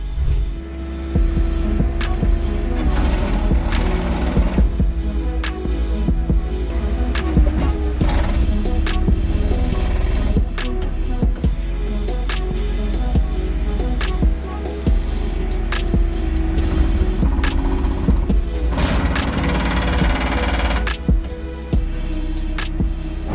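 AttachWorx compactor plate working on a 6-ton machine, heavy rhythmic thumping and rumbling over a continuous diesel engine drone, with clattering impacts throughout.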